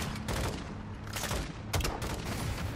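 Explosions and gunfire from grenade launchers in Call of Duty Modern Warfare II, a dense, continuous barrage of loud blasts with sharp bursts around the middle and near the end.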